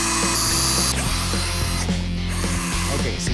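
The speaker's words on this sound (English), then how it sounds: "I want you to get everything drilled into this wall" A power drill drives screws into a wall during a home makeover, its motor whirring loudly and steadily in several bursts with brief changes in pitch, no talking.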